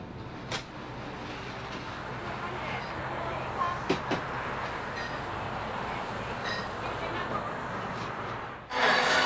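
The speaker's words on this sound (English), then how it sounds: "It's a train." Train rumble and rolling rail noise in a radio commercial, a steady moderate clatter with a few sharp clanks and squeals, ending in a louder burst, with no clear talk.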